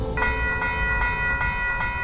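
Train blocking a road in the Mojave desert, a steady rumble of rail cars with a sustained tonal horn-like hum and faint rhythmic clanks repeating every few tenths of a second, moderately close.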